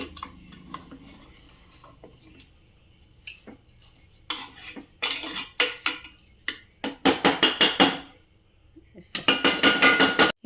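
Metal spoon scraping and clinking against a pan while beetroot halwa is stirred after sugar goes in, in bursts of quick repeated scrapes that grow louder and denser toward the end.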